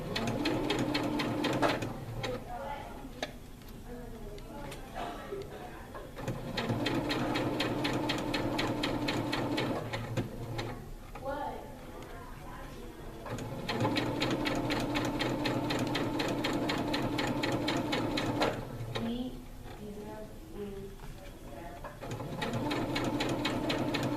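A sewing machine stitching a fabric hem, running in steady rapid bursts of mechanical whirring and needle clatter, pausing briefly between runs, fairly close and alone without talk.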